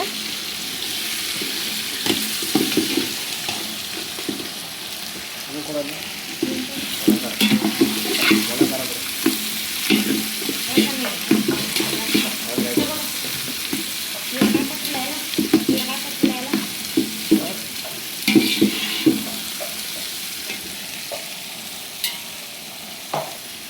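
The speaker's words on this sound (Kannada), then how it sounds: "ಈರುಳ್ಳಿ ಹಾಕ್ತಾ ಇದ್ದಾರೆ ಈಗ." Onions fry in oil with fresh curry leaves for a Khanavalli-style potato palya, a soft continuous sizzle broken by clattering stirs and scrapes that grow busier midway, with a faint watery hiss beneath.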